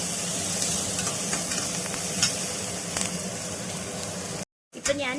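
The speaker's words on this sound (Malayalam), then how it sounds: "സവാള വഴറ്റിക്കൊണ്ടിരിക്കുകയാണ് കേട്ടോ" Onions sautéing in a pan for moong dal vegetable khichdi, a steady close sizzle with light stirring scrapes, briefly interrupted by a gap near the end.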